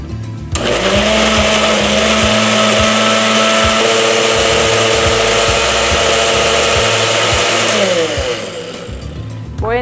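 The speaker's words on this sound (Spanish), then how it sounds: "Vamos a licuar." A kitchen blender runs steadily and loudly for almost ten seconds, whirring as it purées a sauce made with broth, salt and pepper, with a sharp start and a slight change in pitch near the end.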